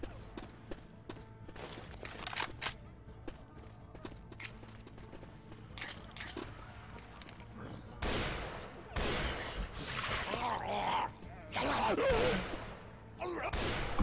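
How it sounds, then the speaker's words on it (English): Grenade launcher in the game Left 4 Dead 2: a series of sharp shots and heavy blasts grows louder in the second half, mixed with footsteps and game noise and voices faintly in the background. "that's the grenade launcher"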